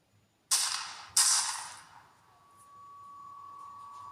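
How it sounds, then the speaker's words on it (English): Two sharp gunshot blasts in Minecraft in quick succession, loud and close, each trailing off into a fading rumble, followed by a faint steady tone. "A series of gunfire rang out"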